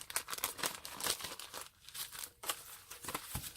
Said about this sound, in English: A glassine bag.